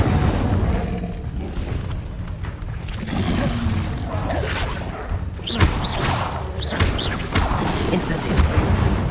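Booming fire-spell blasts and whooshes in Hogwarts Legacy combat, with Incendio cast in a dense, loud mix of impacts, crashes and swishes. A voice calls out spell names over the clamor.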